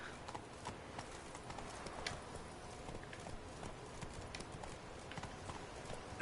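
Hooves of Roach the horse in The Witcher 3, a steady rapid clip-clop of galloping over ground, faint and continuous under a soft ambient wash.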